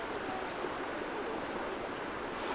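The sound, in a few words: karst spring water flowing at Albania's Blue Eye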